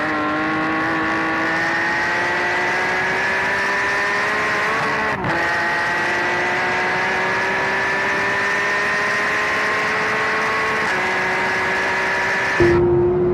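Porsche 911 GT3 engine while driving on a track: a loud, sustained engine tone that climbs steadily in pitch under acceleration, briefly dips at a gear change, then keeps rising before a final shift drops it lower.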